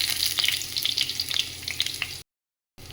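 Onions frying in oil in a kadai hiss with a dense, steady sizzle and crackles, close and fairly loud, before cutting to silence near the end.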